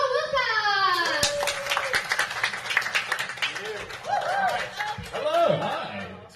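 Comedy club crowd breaking into applause for a stand-up comic as he's introduced, a burst of clapping that swells then thins, with laughter and voices mixed in.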